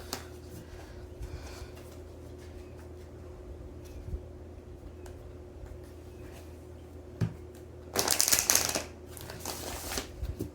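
Tarot or oracle deck cards being shuffled, a short close riffling burst near the end of an otherwise quiet stretch with faint low hum and scattered small taps.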